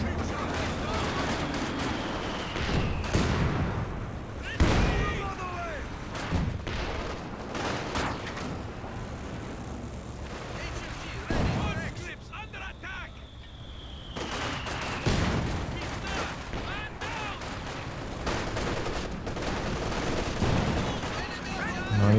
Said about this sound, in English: He heard the rockets coming.